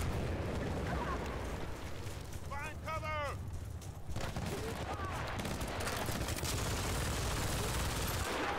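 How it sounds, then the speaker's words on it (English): Machine gun fire in the video game Battlefield: Bad Company 2, muffled rattling bursts and distant booms under a steady rumble of battlefield noise, with a player talking over parts of it. "I think that guy has a machine gun."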